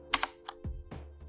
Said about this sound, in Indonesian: Lalu tekan tombol Ctrl plus T pada keyboard.